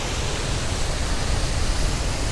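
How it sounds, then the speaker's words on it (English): A waterfall at a trout-fishing spot roars as a steady, dense wash of broadband noise, loud and unbroken with no voices. "Behold the waterfall."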